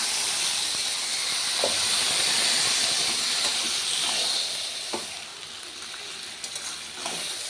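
Taro leaves (kochu shak) fry in a pan as a steady, loud hiss and sizzle that holds throughout, with a few faint clicks of utensils and no talking.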